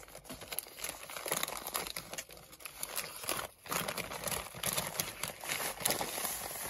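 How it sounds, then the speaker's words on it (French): Mail package being opened by hand, with close, busy paper crinkling and tearing in irregular bursts, a brief pause near the middle, and no talking. "Et donc, on va ouvrir son paquet."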